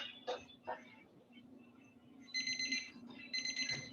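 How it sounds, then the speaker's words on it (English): A kitchen timer set for toasting walnuts goes off with bursts of high electronic beeping in rapid clusters, heard over a low background hum after a couple of short knocks. "my timer's going off"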